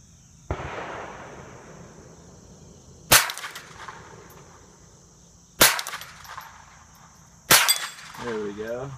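A Ruger 10/22 rifle fires CCI Blazer rounds at a small steel plate outdoors, giving four sharp, loud cracks spaced a couple of seconds apart, each followed by a short ringing decay, with a voice briefly at the end.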